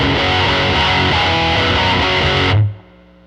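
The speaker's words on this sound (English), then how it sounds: "I want some of that studio plate reverb type stuff going on" Loud, distorted electric guitar chords ring out with a lush, spacious studio plate reverb, then cut off abruptly leaving a brief decaying tail.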